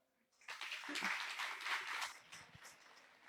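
A church congregation at an evening youth gathering applauds the event hosts, a soft burst of clapping that swells quickly, holds steady and then tapers off, heard without talk.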